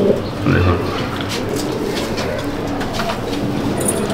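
Pigeons coo in a pigeon loft, soft low throaty calls repeating close by over a steady murmur of the birds, with no voices.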